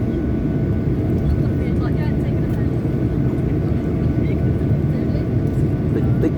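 An airliner taking off from Innsbruck Airport, a loud steady engine roar heard from inside the cabin that holds constant throughout, with someone talking over it.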